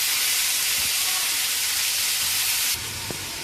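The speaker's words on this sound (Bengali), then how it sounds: "আমার মোচাটাকে এর মধ্যে দিয়ে দেবো" Banana flower drops into hot oil tempered with cumin seeds and a dried red chilli, giving a loud, continuous hiss and sizzle that eases slightly near the end.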